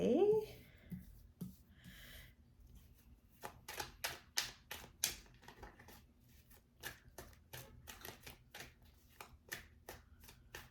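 Tarot cards being shuffled by hand, a quiet series of crisp riffling bursts and soft slaps in an irregular rhythm, close to the microphone, with a brief sound at the start.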